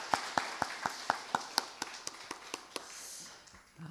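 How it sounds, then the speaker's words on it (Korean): A church congregation at a Korean Thanksgiving communion Sunday morning service claps in thanks for the pastor and his wife, starting with evenly spaced sharp claps that blur into scattered applause and taper off. "우리 목사님과 사모님께 다시 한번 감사의 박수 한번 부탁드립니다"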